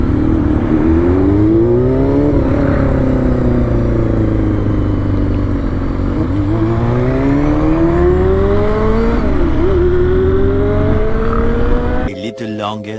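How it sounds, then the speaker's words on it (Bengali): A Royal Enfield Himalayan motorcycle's exhaust drones steadily while riding, with the engine note rising and falling through gear changes and throttle swells. It stays loud and close, and the wind roars throughout before cutting off abruptly near the end. "শুধু বাইকের এক্সস্টের সাউন্ড শুনবেন।"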